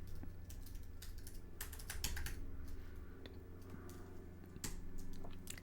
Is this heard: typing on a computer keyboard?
yes